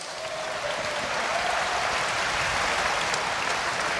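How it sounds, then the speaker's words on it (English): Steady applause fills an arena crowd at a Hawai'i Warrior men's volleyball match against USC, a dense, even wash of clapping that holds at full level throughout with no voices over it. "Please give them a big round of applause."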